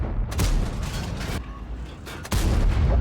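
A heavy tank cannon in World of Tanks fires APCR rounds from a Swedish STRV 103B: two loud, deep booms about two seconds apart, each followed by a rumbling tail.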